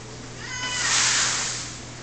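A household cat gives one drawn-out, rising and falling meow near the microphone, clear over a steady background hum.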